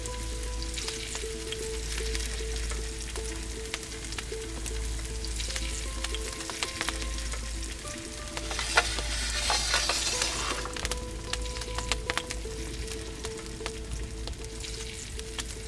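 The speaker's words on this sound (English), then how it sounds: "I'll gently turn them over and cook the other side." Potato stacks frying in a wood fired oven, a steady close crackling sizzle with scattered pops and spits over a low rumble, swelling louder midway as the pieces are turned, with no talk.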